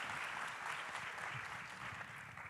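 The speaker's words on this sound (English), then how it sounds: "Can you hear the applause from there?" Steady audience applause fills a large plenary hall at a global urban food policy forum, a dense wash of many hands clapping at moderate, even volume throughout.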